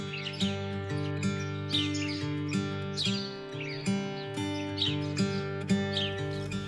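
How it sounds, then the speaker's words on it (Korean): Morning birds at Dumulmeori in Yangpyeong, where misty rivers meet, give repeated bright chirps and short calls over a sustained melodic tone, with no talking heard. "물안개 자욱한 강 새들의 노랫소리가 두물머리에 아침을 깨웁니다."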